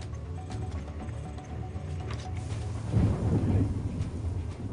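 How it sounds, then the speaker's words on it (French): Rumbling thunder from a sudden storm building over a valley, a low continuous roll that swells louder around the middle and then holds, with a faint rain-like hiss beneath it and no voices. "Tout à coup, un énorme orage surgit de nulle part."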